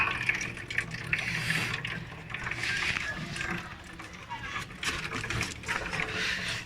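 Coolant water gushes and splatters steadily from the radiator of a Suzuki Every Wagon DA64W with its cap removed, close up, while someone talks over the flow.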